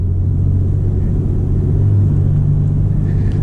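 A Porsche 991.1 Carrera 911 engine droning under load on the move, a loud, steady low rumble with a slight swell in the middle, heard from inside the car without talk.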